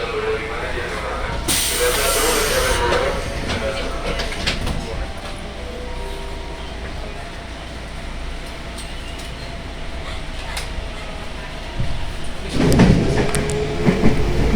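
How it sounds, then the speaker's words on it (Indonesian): A KRL commuter train in Jakarta rolls through Pasar Senen station, giving a steady loud rumble and hiss inside the carriage, with a few sharp bursts and clatters and a louder surge near the end. "ini kita sedang melintasi stasiun Pasar Senen ya"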